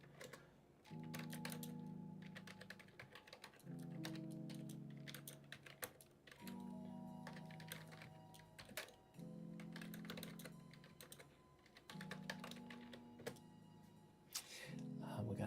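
Computer keyboard typing in bursts of rapid key clicks, with music playing steadily underneath throughout, during a laser project livestream.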